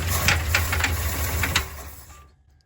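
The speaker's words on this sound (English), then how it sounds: "that super fun knocking noise is kind of what we're talking about here" A 1959 Chrysler Windsor V8 with a cold cylinder struggles to run, knocking and rattling in uneven rapid taps under a low rumble before cutting out into silence.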